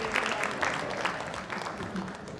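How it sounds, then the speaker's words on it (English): A crowd at an esports Egg Bowl event applauds the Land Shark Smite starting lineup. The clapping is loud and fairly close, with a few louder swells, and voices cheer faintly in the background. "Give one more big round of applause for your Land Shark starting lineup in Smite"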